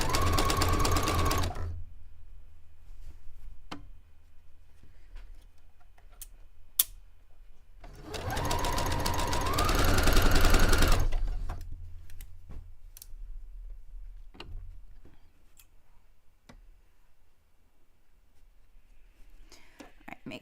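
A sewing machine stitches a curved seam on pants in two steady runs, one short at the start and one of about three seconds midway, with faint whispery talk and quiet handling between them.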